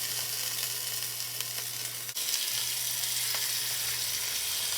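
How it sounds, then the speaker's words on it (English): Beef short ribs sear in a hot pan while being pressed down, a steady, close, even sizzle with a brief soft knock partway through and no voices. "Really push them down into the pan to make sure you get good contact."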